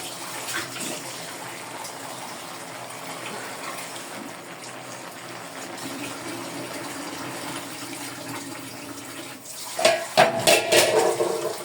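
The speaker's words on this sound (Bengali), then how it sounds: "আমি কপিগুলা প্রায় অর্ধেক সিদ্ধ হয়ে গিয়েছে, এখন আমি জল দিয়ে দিব।" Water pours steadily into a pot of half-boiled cauliflower in a home kitchen, a continuous gushing splash that turns louder and more clattering near the end.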